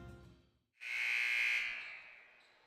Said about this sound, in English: Second buzzer just rang.